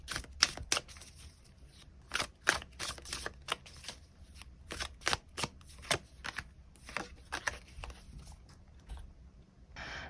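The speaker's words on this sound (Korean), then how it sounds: "추가 카드 뽑아보도록 하겠습니다" Tarot cards are shuffled and drawn, with a crisp close run of riffling snaps and flicks in irregular bursts and short pauses, with no talking.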